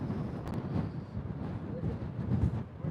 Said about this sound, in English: it's quite windy, gusty up here on deck